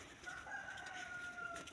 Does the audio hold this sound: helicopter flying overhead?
no